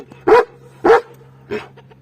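A Kangal shepherd dog gives three loud, close barks at a steady pace, the last one softer, with no talking.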